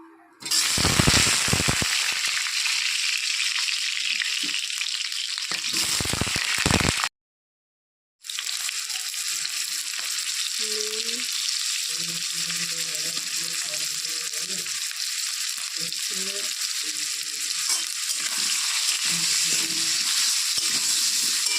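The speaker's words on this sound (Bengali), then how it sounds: "আলুটাকে প্রথমে ভাজতে হবে।" Potatoes fry in a pan with a steady, bright sizzle that runs almost unbroken, briefly cutting out once, with faint clinks and stirring scrapes underneath while the oil hisses close and loud.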